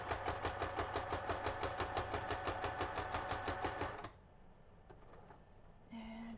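An envelope is stitched on a sewing machine, producing a fast, even mechanical chatter of rapid needle strokes for about four seconds. The machine then stops, leaving a faint hum and a few soft handling clicks.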